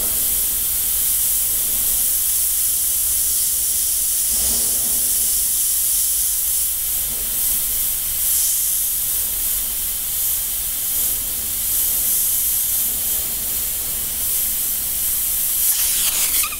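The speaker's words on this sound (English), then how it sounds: "Wait till that compressor finishes." An airbrush sprays paint on a bat model while an air compressor drives it, producing a loud, steady hiss with continuous noise that barely varies throughout, close to the microphone, with no talking.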